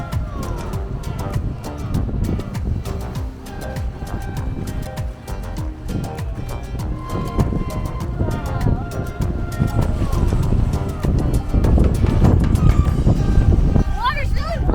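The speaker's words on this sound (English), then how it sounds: "it's super windy" Strong evening wind buffets the microphone at Lake Atitlan in Guatemala, a steady loud roar that runs the whole time, with other lakeside sounds mixed underneath.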